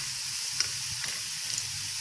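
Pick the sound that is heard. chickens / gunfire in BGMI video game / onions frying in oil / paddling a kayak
onions frying in oil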